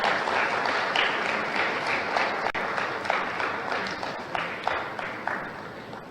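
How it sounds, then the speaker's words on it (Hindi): Loud applause rises from a large audience at a government ceremony as an e-magazine is released, a dense, steady clatter of many hands that continues for several seconds and gradually eases. "कृपया जोरदार तालियां हो जाएं।"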